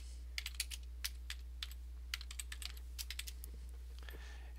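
Quick, irregular keystrokes on a computer keyboard, close and fairly faint, tapping in short bursts over a steady low electrical hum.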